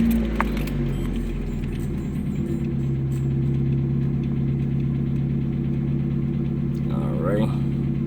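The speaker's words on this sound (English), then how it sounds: "go ahead and start the car up." A Mazda Miata MX-5 (NA/NB, 1.6 or 1.8 engine) starting up after an oil change, then settling into a steady, low, even idle close by, with a faint clink of keys near the end.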